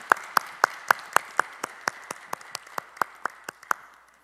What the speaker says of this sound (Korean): 다 같이 박수로 격려하시겠습니다